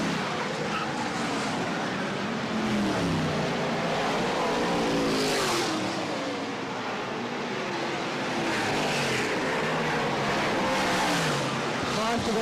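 BriSCA F1 stock cars racing at Baarlo Raceway's long track in 1998: loud engines roar and rev as cars sweep past in waves, under a race commentator talking continuously.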